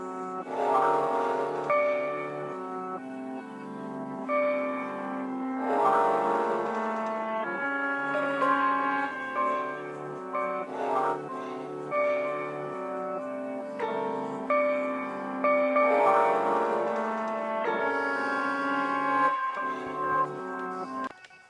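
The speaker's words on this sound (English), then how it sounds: "Oh yeah, it's kind of this bell type sound." Bell-like pad tones from an MPC sampler, a sustained chiming harmonic swell that rises and falls in repeating phrases, loud and clear with no voices.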